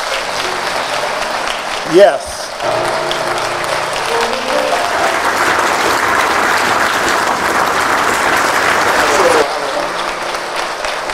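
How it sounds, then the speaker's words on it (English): A church congregation breaks into sustained, loud applause after a brief spoken word and a voice, the clapping holding steady for several seconds before cutting off abruptly. "Let us give him a round of applause for that."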